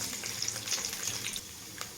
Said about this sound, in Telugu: పోపు గింజలు వేగుతున్నాయండి.